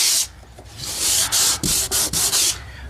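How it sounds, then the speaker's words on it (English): Fine P220 sandpaper rubbed by hand over a repaired hollow wooden door, a series of close, rhythmic scraping strokes with brief pauses between them. "For the final sand, you can have a P220. A P220 just to make it smooth"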